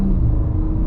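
A BMW G80 M3 Competition sedan setting off slowly in comfort mode, a steady low engine rumble heard from inside the cabin, close and fairly loud with no voices.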